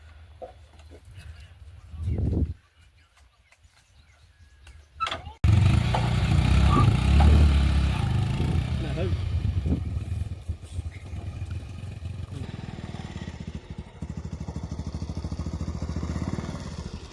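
A motorbike in a village street starts up with a sharp burst and keeps running loudly nearby as it rides off, after a quieter stretch with a brief clatter; voices are heard faintly around it.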